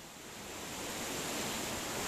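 A cascading waterfall roars as a steady, broad rushing hiss that swells slightly louder and holds constant, with no voices.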